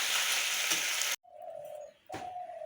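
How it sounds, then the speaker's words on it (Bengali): Fish frying in a pan over a low flame while being stirred, a steady broadband sizzle that breaks off abruptly, then returns softer in two stretches, with no one speaking. "খুব মানে লো ফ্লেমে এরকম করে নাড়াচাড়া দিয়ে মাছটা করবো আমি।"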